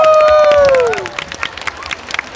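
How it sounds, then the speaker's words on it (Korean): A crowd at a Pokémon live show claps and cheers after a Pikachu moment, with a falling electronic tone fading at the start; scattered, uneven clapping and murmured voices follow at moderate volume. "박수 한번 부탁드립니다."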